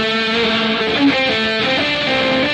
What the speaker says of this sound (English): the reverb's still like way up